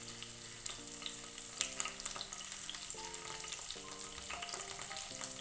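Curry leaves crackle and sizzle in hot coconut oil, a steady close frying hiss with occasional pops and stirs, set over soft background music.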